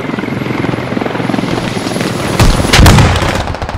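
A helicopter's rotor in the video game Squad thrums steadily up close, then a few sharp, loud bursts like gunfire crack over it near the end.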